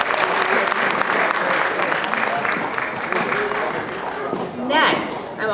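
Audience applause fills a high school awards ceremony, steady dense clapping throughout with some voices mixed in near the end.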